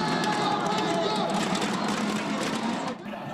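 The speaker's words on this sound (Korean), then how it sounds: "관중들의 뜨거운 함성 소리가 체육관을 가득 메웁니다" Crowd of students and local residents in red clothes and headbands cheering loudly in a packed university gymnasium during an indoor street-viewing of a World Cup football match, a dense, sustained roar filling the hall with voices mixed in throughout.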